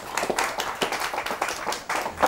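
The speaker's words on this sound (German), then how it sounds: "Ein Applaus für den Oskar Brodbeck" Audience applause for a voice impersonator introduced on a Swiss comedy talent show: a short burst of fairly thin, uneven clapping at steady level, with no voices over it.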